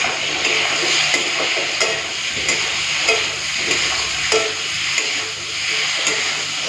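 Spiced masala with tomato, salt, Kashmiri red chilli powder and a little sugar sautés with potatoes in a pan, a steady sizzle broken by repeated scraping stirs of a spatula throughout.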